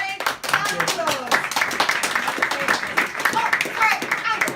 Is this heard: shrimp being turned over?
no